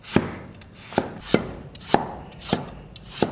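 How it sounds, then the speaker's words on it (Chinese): A knife cuts carrot into diagonal slices on a chopping board, six firm, evenly spaced thuds about half a second apart, close and alone without talk. "把这胡萝卜给它切成片儿，切成斜刀块，"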